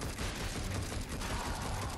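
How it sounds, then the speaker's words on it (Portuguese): Crates being smashed in the action video game Darksiders Genesis, a dense, steady clatter of rapid breaking impacts running throughout at a constant loud level, with no talking. "A gente quebra as caixas aqui"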